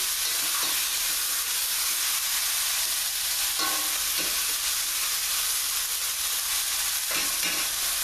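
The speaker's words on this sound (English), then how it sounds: "If you use a wide pan like this, look how easy everything sautés." Food sautés in a wide pan while salmon, jasmine rice and vegetables are cooked, giving a steady, loud sizzle and hiss throughout, with occasional brief stirring scrapes and no talking.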